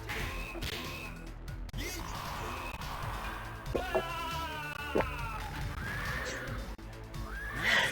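A horse whinnies in a stable in the Art of Fighting 2 fighting game, with several neighs rising over the game's background sound and a voice talking in places.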